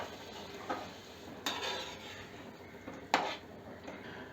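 Quiet stirring of dry fish curry in a pan after water is added, with faint simmering and a few clinks and scrapes of a utensil against the pan, no talking.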